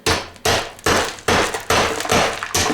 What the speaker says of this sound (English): whack it with the brass hammer